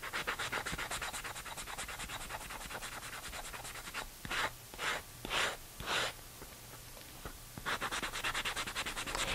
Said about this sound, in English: and sand away some of the paint.